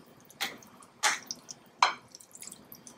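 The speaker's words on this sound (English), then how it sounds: "And so I'm just going to stir that all in." A turkey croquette mixture is stirred, making three distinct wet, squelching pulls spaced about half a second apart, followed by fainter soft squishes, close and quiet, with no talking.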